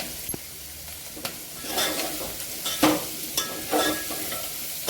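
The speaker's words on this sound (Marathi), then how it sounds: "मीठ टाकल्यानंतर छान याला परतून घ्यायचं फोडणीमध्ये हे अशा पद्धतीने" Cluster beans with salt are stir-fried in a spiced tempering, making a close, steady sizzle with repeated swells of scraping and stirring every second or so.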